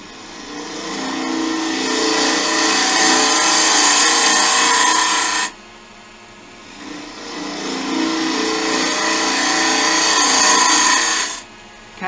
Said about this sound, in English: Can do quite a lot of hollowing with the spindle gouge